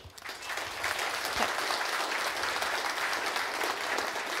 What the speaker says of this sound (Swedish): jag tycker vi ger Annie en varm applåd.